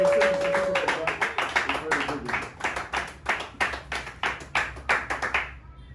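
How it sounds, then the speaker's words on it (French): Rhythmic clapping from a group welcoming a new member into the AFDC political party, steady and fairly close, with a brief voice at the start before the claps fade out at the end. "accueillir notre nouveau membre au sein de notre parti politique, la AFDC, avec des applaudissements"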